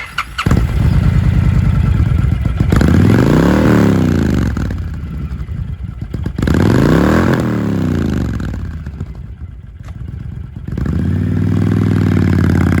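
A used 2013 Honda Fury 1300cc V-twin chopper motorcycle idles loudly nearby, and the engine is blipped several times so each rev swells and falls back to a lumpy, throbbing idle.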